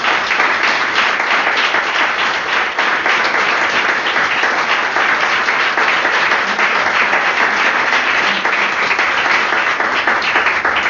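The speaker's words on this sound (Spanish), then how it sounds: "Yo nunca había escuchado un aplauso tan grande, tan sonoro y sostenido como este." Huge, sustained applause from a church congregation during a sermon, a dense, loud and unbroken roar of clapping lasting the whole stretch with no voices on top.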